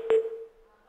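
A telephone busy tone after a call is cut off on a Turkish television talk show: one steady mid-pitched beep over a brief louder burst, then fading, no talk.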